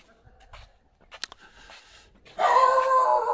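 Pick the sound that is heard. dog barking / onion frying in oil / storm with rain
dog barking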